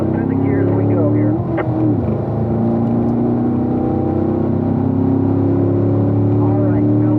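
Corvette Grand Sport race car on a road course pulls out of a corner and climbs through the gears, a loud steady engine roar with a brief dip at a shift, heard from inside the car with a driver talking over it.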